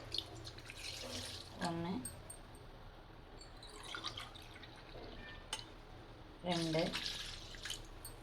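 Coconut milk is poured from a tumbler into a cooking pot in two short splashing pours, soft and close, while a voice counts aloud over faint background noise.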